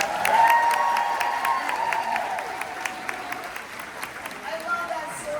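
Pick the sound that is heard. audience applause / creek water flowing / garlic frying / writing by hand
audience applause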